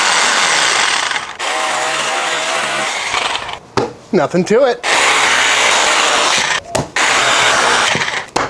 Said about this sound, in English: So now we need to bust out some power tools.